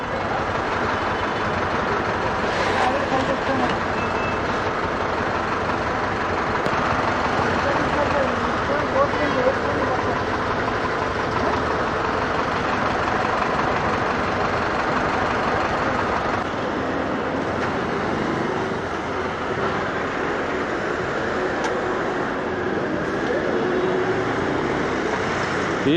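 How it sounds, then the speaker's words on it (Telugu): Steady low rumble of heavy traffic on a highway at night near Nagpur, with lorries idling and crawling in a jam, a continuous broadband drone close by and loud throughout, without clear individual horns. "గాయస్, ఫుల్ ట్రాఫిక్ జామ్ ఉంది."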